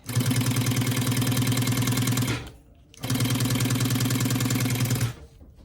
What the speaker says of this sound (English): The thing about this sewing machine is it has this little guide right here, and it helps me sew straight